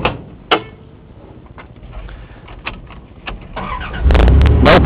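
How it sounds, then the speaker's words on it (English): A 1953 International rat rod pickup truck cranks with a sharp burst, then runs at a low idle before the engine swells louder and rougher near the end, close by with no talk. "I'll start it up, let you guys hear it run."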